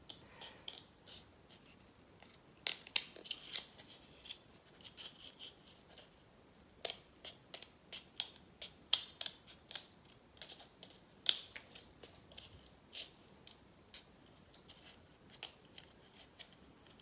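Irregular crisp snips of scissors cutting paper, close by, coming in short bursts with brief pauses between, no talking.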